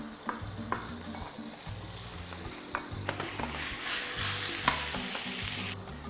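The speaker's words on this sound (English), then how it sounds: "Stir fry this in the oil first." Mushrooms and spring onions stir-fried in hot oil for Thai spring rolls, a steady close sizzle with repeated scraping stirs and light clatter of the utensil against the pan throughout.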